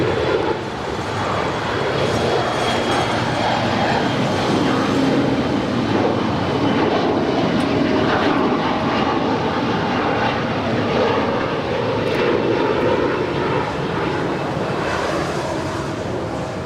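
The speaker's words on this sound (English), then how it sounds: "See, I told you didn't have to wait very long for that Aero Union Airbus A330." An Aero Union Airbus A330 jet at LAX makes a loud, sustained engine roar that holds steady for the whole stretch, close and powerful, with no voices.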